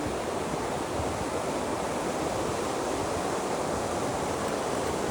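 Seawater churning and splashing around a fishing spot at sea, a steady broadband wash of surf-like noise filling the whole stretch at a constant level, with no voices.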